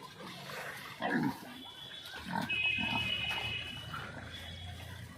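Pigs on a village pig farm feeding from a large drum, with soft grunts and chewing noises over steady farmyard background, a louder snort-like burst near the start.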